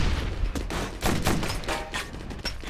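Rapid bursts of gunfire from a military shooter game, Operation Flashpoint: Dragon Rising, crack out in quick overlapping volleys close by with no talk over them.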